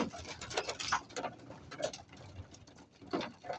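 Pigeons feed and coo close by in light drizzle, with soft pecking and pattering and scattered low coos and rustles, no talk over them.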